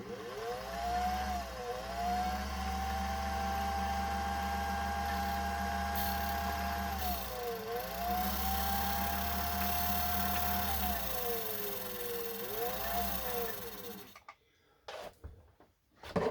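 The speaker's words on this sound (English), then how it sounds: "now your hand wheel can spin and wind the bobbin without the whole machine cycling" Singer 201 sewing machine winding a bobbin with the hand wheel spinning, a steady close motor whir with rising and falling pitch that runs for about fourteen seconds and then stops, followed by a few faint clicks.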